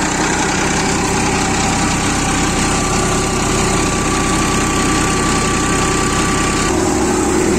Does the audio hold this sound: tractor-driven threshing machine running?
yes